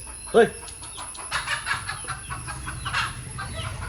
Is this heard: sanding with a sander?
no